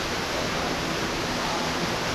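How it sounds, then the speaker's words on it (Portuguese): The Cachoeira do Sossego waterfall on a rocky stretch gives a steady, dense rushing roar that fills the whole span evenly, with no voices over it. "Essa aqui é a Cachoeira do Sossego."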